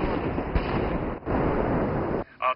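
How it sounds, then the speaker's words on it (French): Explosives are detonated inside tunnel number 2 of a North Korean nuclear test site during its demolition, producing a loud, sustained broadband roar and rumble that cuts off abruptly, followed by a brief quieter burst of noise. "la RPDC a déclenché les explosifs dans le tunnel numéro 2."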